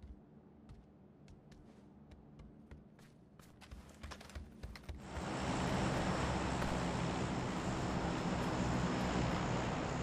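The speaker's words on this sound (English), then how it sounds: "So many planes." Airplanes fly overhead in the video game PUBG, and a broad engine roar swells in midway and holds loud and steady, after a quieter stretch of scattered clicks and taps.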